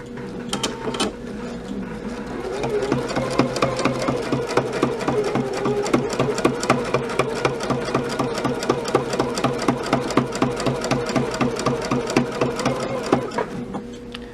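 A domestic sewing machine stitches steadily during free-motion quilting of straight lines, its needle chattering in a fast, even rhythm that runs close and continuous, driven at a reduced foot-pedal speed with no talk over it.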